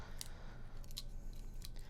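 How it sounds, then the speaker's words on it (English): A wire cutter snips through a thin plastic straw, giving three short, sharp clicks spaced across a quiet two seconds, close and crisp with no talk. "Using a wire cutter here, which is probably not the best thing."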